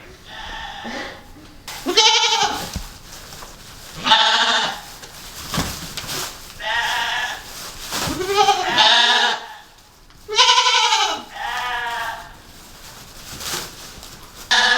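Sheep on an Alaska homestead, being moved for breeding, bleat loudly and close by in several long wavering calls from more than one animal, separated by short pauses.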